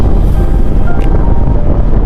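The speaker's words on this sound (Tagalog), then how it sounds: "lakas ng hangin" Loud, constant wind rushing and buffeting the microphone, a dense roar with no pauses.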